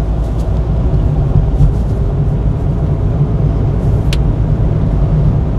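A car engine rumbles low and steady from inside the cabin as the driver presses the accelerator on a winding city road, a continuous deep drone with a faint click partway through and no talking.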